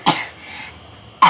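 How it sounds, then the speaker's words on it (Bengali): A sick child coughs twice, sharp close bursts separated by about a second of quiet room tone. "কাশিটা ভালোই আছে"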